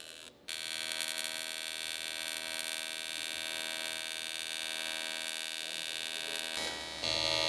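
Steady electric welder hum during welding on a build for an AWD four-rotor car, a continuous buzzing drone that holds loud and even for several seconds after a brief dip at the start.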